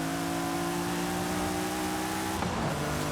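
Car engine in the racing game Forza Horizon 5 holds a steady high-rev drone with sustained tonal harmonics, then shifts pitch briefly near the end, loud and continuous with no talking.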